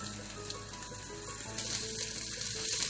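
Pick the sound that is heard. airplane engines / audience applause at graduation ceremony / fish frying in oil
fish frying in oil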